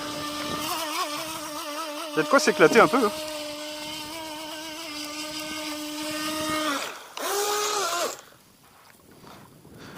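A Skytech H100 RC boat's small brushed electric motor whines with steady rising and falling tones, revving in short bursts and pausing briefly. Someone talks over the motor.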